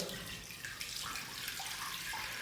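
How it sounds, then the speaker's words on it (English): Water pours into a container for a spring garden-style floral table arrangement, a soft steady splashing stream that shifts slightly in tone as the level rises, faint and alone. "So first thing we're going to do is we're going to add some water."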